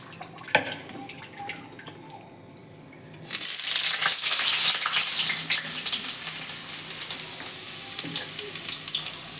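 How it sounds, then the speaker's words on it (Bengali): Cut, washed new potatoes drop into hot oil in a wok: faint clatter at first, then a sudden loud sizzle that keeps crackling and hissing steadily to the end. "এখন কেটে ধুয়ে রাখা আলুগুলো ভেজে নেব।"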